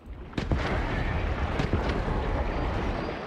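A frag grenade goes off in Warhammer 40,000: Space Marine 2, a heavy explosive boom followed by sharp cracks and a rumbling roar that stays loud and dense for several seconds.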